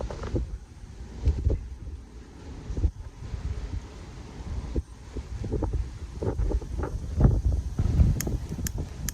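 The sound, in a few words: strong wind blowing into microphone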